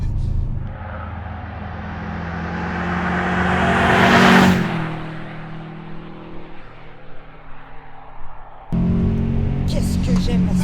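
A Subaru Impreza WRX STI Petter Solberg WR1 engine revs up loud and close, climbing to a screaming peak at high rpm before dropping back to a rough, burbling idle, with an adjustable exhaust valve.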